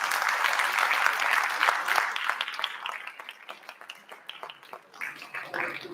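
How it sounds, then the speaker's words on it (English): An audience at an international pharmaceutical sciences conclave applauds an award book release on stage. The clapping starts full and loud, then gradually thins to scattered claps. "Can we have a huge round of applause?"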